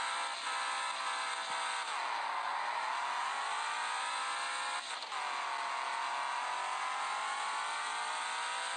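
A car launching hard under launch control toward a top speed of around 180 mph, engine revving loud and close with rising pitch sweeps between gear changes, a continuous strained roar throughout.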